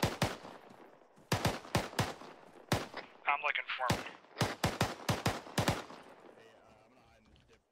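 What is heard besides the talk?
gunfire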